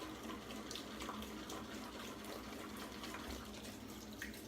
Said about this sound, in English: So rinsing out the bowl and the brush while I let the alum sit.